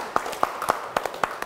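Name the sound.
applause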